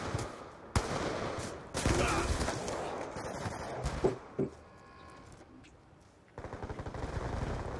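Light machine gun fire in a capture-the-flag match of a shooter video game on a slums map: dense, rapid bursts of gunshots that stop and restart, with a voice talking over them.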